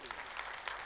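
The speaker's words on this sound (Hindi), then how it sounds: "जबरदस्त ताली बजना चाहिए इनके लिए" Audience applause at a business networking seminar, steady dense clapping throughout with a faint voice underneath.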